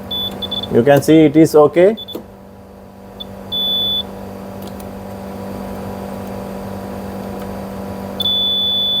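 A continuity tester beeps while checking a refrigerator compressor: a few short, steady electronic tones, with a longer one near the end, over a low hum and a brief stretch of talk.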